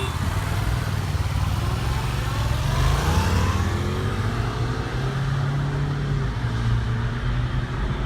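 A car in sport mode with traction control off accelerates hard at full throttle in a street race against a Yamaha FZ-07 motorcycle. A steady, loud engine roar rises gradually in pitch with wind rush, and there is no talking.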